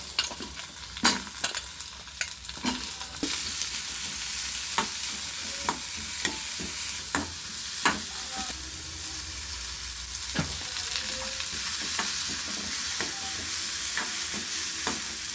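Onions and green chillies sauté in hot oil for a potato sabzi, a soft steady sizzle broken by repeated sharp scrapes and taps of a spoon stirring the pan, with no talking.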